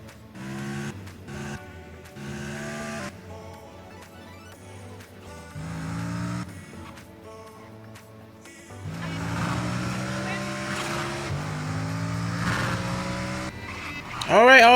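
Car engine in GTA San Andreas on Android rising and falling as the car accelerates and slows, with game music and effects layered over it, ending in a sharp tire-screech burst; someone talks throughout.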